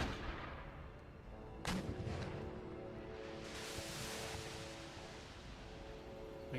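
Rocket artillery firing in the battle game Empire Total War, a loud booming launch followed by a long rushing roar and distant rumbling volleys over continuous battlefield noise.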